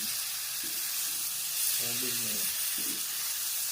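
Chicken chilli fry tossed on a hot tawa: a continuous bright sizzle and hiss of frying with a few short stirring scrapes, close and steady, while a voice murmurs faintly underneath.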